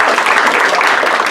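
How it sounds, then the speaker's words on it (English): Audience applause for a volunteer at a magic show, a short, loud, close wash of clapping that holds steady and fades slightly at the end. "Please give Ruby a nice round of applause"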